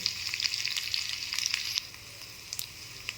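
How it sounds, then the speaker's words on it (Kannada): Garlic frying in hot oil for a tempering after mustard seeds have popped, a steady close crackling sizzle with scattered sharp pops that eases to a softer hiss partway through. "ಚಿಟಪಟ ಅಂತ ಸಿಡಿದ ಮೇಲೆ ಬೆಳ್ಳುಳ್ಳಿ ಹಾಕ್ತೀನಿ. ಬೆಳ್ಳುಳ್ಳಿ ಒಂಚೂರು ಬೇಯಿಸಿ."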